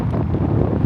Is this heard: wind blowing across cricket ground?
yes